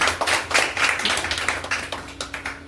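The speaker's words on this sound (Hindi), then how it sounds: "एक जोरदार ताली होनी चाहिए आप सभी की" An audience bursts into loud clapping, dense and close at first, then thinning into a looser, rhythmic patter of hands toward the end.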